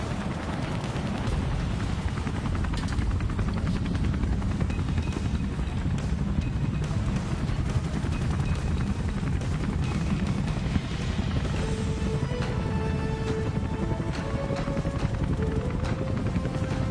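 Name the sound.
military helicopter hovering low over Marina Bay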